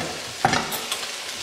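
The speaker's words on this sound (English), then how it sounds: "give it a stir." A single scrape of a spoon through shepherd's pie filling frying in a pan, one short stir over a steady low sizzle, close by with no talking.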